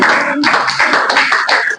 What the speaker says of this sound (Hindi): एस रंजन सर, इनके लिए जोरदार ताली